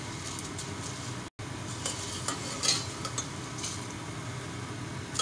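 Broken spaghetti frying and being stirred in a pan gives a steady close sizzle with soft scraping, with no talking.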